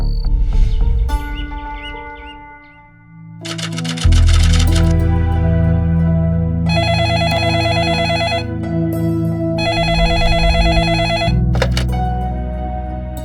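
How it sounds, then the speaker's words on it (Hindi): A telephone rings in repeated electronic bursts with pauses between them, loud and close, alongside a low hum and a few chirpy tones. "कितनी देर से तुम्हें फोन मिला रहा हूँ मेघा, फोन बंद था क्या तुम्हारा?"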